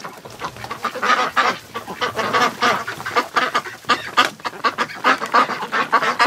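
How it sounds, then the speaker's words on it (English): A flock of domestic ducks and geese honk and quack loudly and continuously up close in a sheltered indoor pen, overlapping calls with no talking. "let the ducks enjoy themselves here, have a little snack, a little bit of water"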